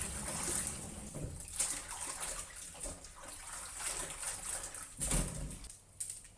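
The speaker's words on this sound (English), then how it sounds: "wash separately, either using running water or plunge a few times into a pot of water to remove the dirt" Bok choy stalks being rinsed under running water, a steady splashing wash that continues throughout with small surges and clatter, close and moderately loud, no speech.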